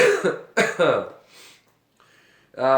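A couple of harsh coughs and throat clearing mixed with a voice, loud and close, followed by a pause.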